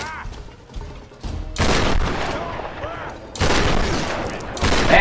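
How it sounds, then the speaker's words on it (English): Loud shotgun blasts in the Tomb Raider 2013 video game, several sharp booming shots in quick succession with rumbling tails over game ambience. "this guy took a shotgun blast to the face and is still kicking"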